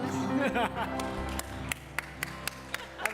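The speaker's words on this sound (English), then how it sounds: "round of applause" Applause breaks out at a Friday night musical Shabbat service and Hanukkah celebration after a dreidel song, with steady clapping beneath music and voices and a few sharper claps standing out toward the end.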